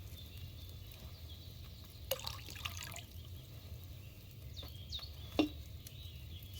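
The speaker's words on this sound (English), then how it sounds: "So, what did you pour in there? Wine, of course." Wine is poured into a cauldron in Kingdom Come: Deliverance II, heard as faint liquid splashes and drips over a low, steady background hum, with no talking.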